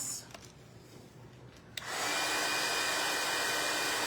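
A hair dryer switches on partway through and runs as a steady, close, loud airy whoosh while it dries a painted wood craft; before that there are a few quiet handling taps.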